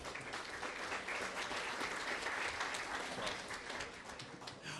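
Audience at a high school spring sports banquet in Ste. Genevieve, Missouri claps together in a steady, moderately loud round of applause that swells and then tapers near the end.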